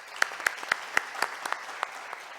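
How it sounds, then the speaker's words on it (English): Sparse, individual claps from a small audience at a shipping conference panel on green energy in Cyprus; about ten distinct hand claps ring out at a fairly even pace, moderately close, with no talk over them. "So please give a big round of applause."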